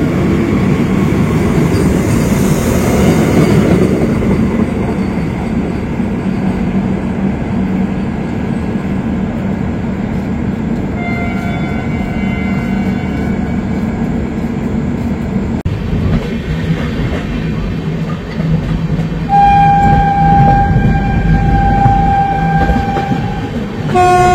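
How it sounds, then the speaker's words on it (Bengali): The Tatanagar–Brahmapur Vande Bharat train departs Howrah Junction with a continuous loud rolling rumble and rail clatter, with horn blasts sounding in the latter half. "বন্দে ভারত আগে বেরিয়ে গেল।"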